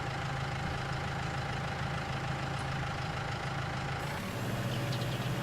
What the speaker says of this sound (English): let's head over to our tractor